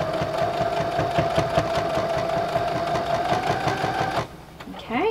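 Sewing machine stitching quilt binding, a steady close mechanical whir with a rapid rhythmic needle chatter, running about four seconds before stopping abruptly, with a voice talking over it.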